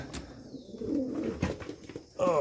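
Racing pigeons packed in a crate before release coo in soft, close, overlapping calls, with a few rustles and a brighter burst of bird sound at the end.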